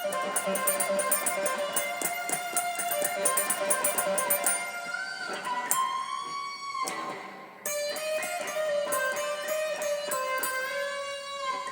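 A clean guitar plays a slow, melodic phrase, picked notes with slides and sustained tones, heard alone with no voices.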